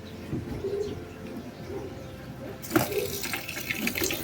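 Medicated bath water poured over a hedgehog at a hedgehog hospital, a brief trickling splash arriving partway through amid low background murmur and faint bird-like cooing.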